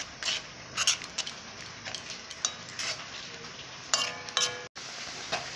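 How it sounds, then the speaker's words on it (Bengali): Carrots stirred in a pan for a carrot milk sweet, giving soft scraping and clinking strokes with a light sizzle, fairly quiet and close, with brief utensil taps near the end. "আমি গাজরগুলো দেব। এইভাবে নেড়ে ছেড়ে নেব।"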